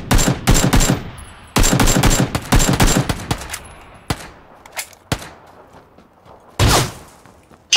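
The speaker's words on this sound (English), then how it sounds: "He hit me with that shotgun." Bursts of loud, close gunfire in PlayerUnknown's Battlegrounds, with clusters of rapid shots and a few sharp single blasts between short pauses, in a tense multiplayer match.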